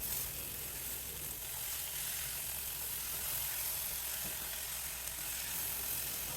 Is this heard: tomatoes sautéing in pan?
yes